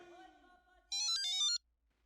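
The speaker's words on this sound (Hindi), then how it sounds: "किसका फोन आ गया?" A mobile phone ringtone chimes in a Hindi TV sitcom, a bright, short electronic melody of quick notes lasting under a second, heard right after someone speaks.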